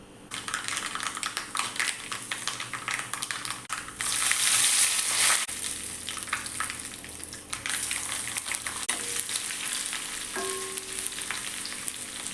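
Steady coconut oil sizzle with a louder, crackling burst in the middle as mustard seeds, dried red chillies and curry leaves hit the hot pan, then a continuous hiss.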